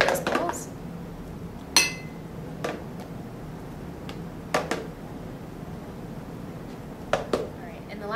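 Frozen banana ice cream is spooned out into bowls, a handful of sharp clinks and scrapes of utensil on bowl scattered across a quiet room.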